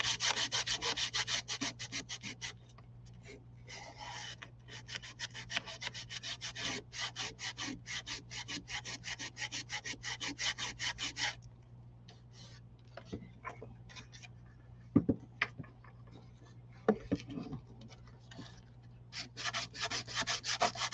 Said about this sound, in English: I didn't sand the side. I'll do that right quick.